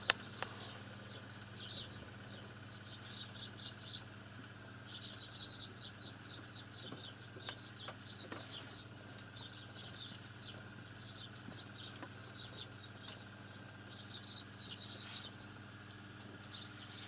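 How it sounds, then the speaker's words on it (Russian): House sparrows chirp outside a window in the early morning, their quick high twittering coming in repeated bursts against a steady low background hum. "Утро раннее, это у меня перед окошком. Сколько воробьев здесь."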